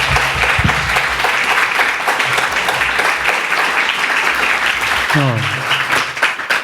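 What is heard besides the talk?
audience applause for the author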